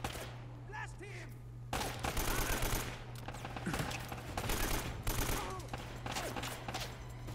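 Video game gunfire from Uncharted, with rapid bursts of shots and loud volleys that stop and start, separated by brief quieter gaps with game background sound.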